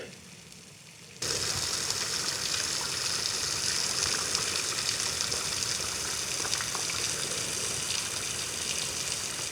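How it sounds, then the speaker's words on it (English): A thin stream of water runs at Lower Horsetail Falls in the Ozark National Forest. After a brief quiet start, it settles into a steady, close broadband rush that carries on alone to the end. "this is lower Horsetail Falls, but there's hardly any water running"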